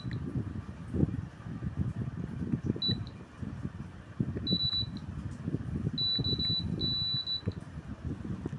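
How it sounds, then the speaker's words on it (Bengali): A BLDC ceiling fan circuit board on the repair bench powers on and gives a few short, high electronic beeps, then a couple of longer tones, over a steady low hum at close range. "চালু হয়ে গেছে, বিপ সাউন্ড নিয়েছে।"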